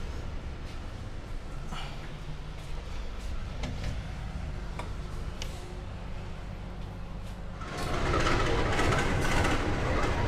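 A Malabar train shunting in along the track, heard from inside a stationary Gajayana Executive train carriage as a steady low rumble that swells louder near the end, with no voices.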